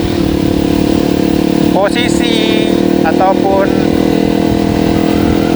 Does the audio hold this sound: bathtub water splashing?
no